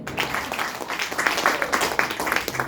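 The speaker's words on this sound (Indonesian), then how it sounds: "Tepuk tangan dulu." Audience applause at a talk or gathering, a moderate patter of clapping hands heard from a short distance, fairly even and sustained with no clear speech over it.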